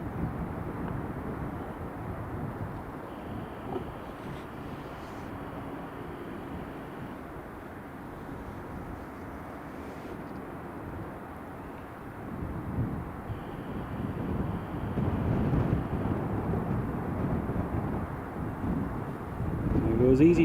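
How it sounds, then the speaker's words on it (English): An easyJet airliner takes off at Edinburgh Airport as a low, broad engine roar that builds steadily from a distant rumble to a louder, fuller roar, with wind buffeting the microphone. "EasyJet is clear for takeoff."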